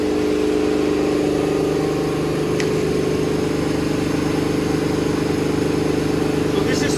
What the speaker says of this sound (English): Sorry, the compressor was going.